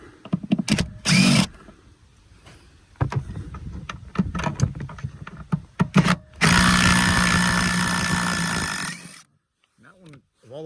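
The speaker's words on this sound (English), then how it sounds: "once they're cracked loose, I just go ahead and switch the impact" A pneumatic impact wrench on a first-generation Chevy Volt sits in loud, rattling bursts, the longest lasting about three seconds, while someone speaks in between and faint tool clatter fills the gaps.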